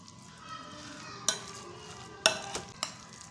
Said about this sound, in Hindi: बेसन को पहले हम इसी तरह से अच्छे से मिक्स करेंगे।